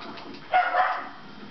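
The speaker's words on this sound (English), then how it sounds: "That's just my puppy." A puppy gives a short burst of barking and yipping, a single close bark-like cry of under half a second, over a steady background of arcade fighting-game sound.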